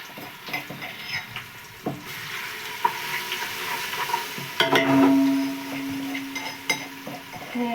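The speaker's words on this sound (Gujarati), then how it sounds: "તો આપણે લસણ એકદમ સાતળી લઈએ" Garlic paste sizzles and fries in a hot pan for homemade Manchurian, a steady crackle broken by scraping stirs and the clink of a spoon against the pan.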